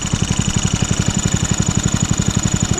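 A Snapper lawn tractor mower engine runs steadily nearby with the cutting deck set high, giving an even, rapid chugging throb with no talking over it.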